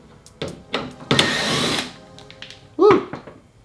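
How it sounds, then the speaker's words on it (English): A power drill backs out T20 star screws from the LED lights of a 2010 Mercedes C300, with short buzzing bursts, one longer whir and a final loud spin-up, close by. "remove these 4 screws right here, and for the purpose we need to get a T20 star"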